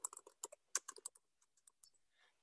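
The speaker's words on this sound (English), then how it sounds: "And as I'm typing it" Typing on a computer keyboard while entering an address into a real estate search form: a quick burst of close, crisp key taps, then slower, scattered single keystrokes that fade out near the end.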